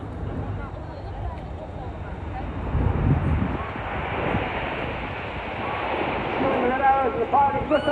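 Display aircraft flying at the Wales Air Show give a broad, sustained roar that swells and fades over several seconds, with a voice faintly audible in the background.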